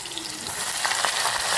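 Chopped vegetables hit hot oil in a Gujarati tempering with tomatoes, giving a steady, close broadband sizzle that keeps on through the whole moment and grows slightly louder toward the end, with no talking.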